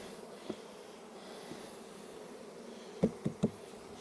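Honeybees at a hive make a faint, steady low hum, with a few short sharp knocks close together near the end.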